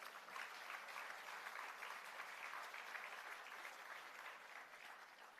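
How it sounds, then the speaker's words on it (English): Steady, sustained applause from an audience at the grand opening of a poultry processing plant, a dense wash of clapping that holds evenly for the whole stretch with no voices breaking through. "You can give them a round of applause."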